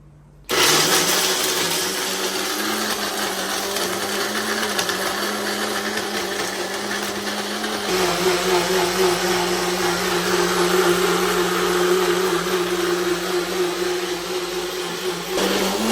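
Mixer grinder grinding coconut in a home kitchen, a loud close whirring drone that starts abruptly and runs continuously, shifting pitch slightly partway through, with no voices.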